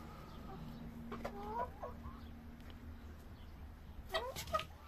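Hens at a feeding spot eating watermelon and potato scraps, soft clucks and chirps rising over steady farmyard background noise, with a couple of closer, louder calls near the end.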